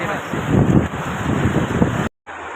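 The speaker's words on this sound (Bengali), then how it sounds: "এই জলের স্রোতটা দেখ, জলের স্রোতটা।" Floodwater current flowing along a street, a rushing, churning wash close to the microphone with some wind buffeting, steady throughout before a brief dropout near the end.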